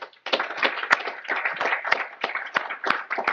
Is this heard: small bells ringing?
no